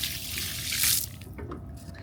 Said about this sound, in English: You just turn this and let everything drain at the end of your job.